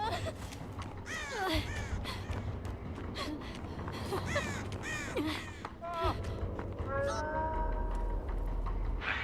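Crow cawing in the horror video game Dead by Daylight, several harsh rising caws in bursts against a busy game soundscape, with cat-like yowls mixed in and a low rumbling bed.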